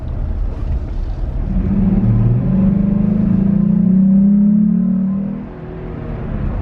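Jeep Gladiator fitted with an S&B cold air intake, its engine giving a low, steady grumble that swells gradually as revs rise, then eases back, heard alone and fairly loud.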